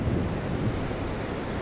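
Wind buffets the microphone at Kingscliff beach in Australia while ocean surf rumbles on without a break, a dense and steady roar with no voices.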